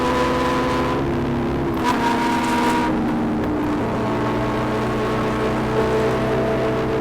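A continuous engine drone with steady humming tones, the pitch shifting slightly as a Kawasaki Ninja H2 motorcycle rides on, fairly loud and close throughout.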